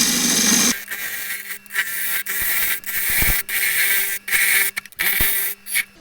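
Wood lathe spinning a split, wormy bowl blank cut with a 1/2 inch spindle gouge at 1700 rpm, steady motor hum under a harsh scraping hiss broken into repeated cuts with short gaps, close and loud.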